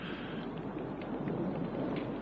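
Thunderstorm with wind in a 1978 horror film, a steady low rumble of rain and gusts with faint rolling thunder throughout, no voices.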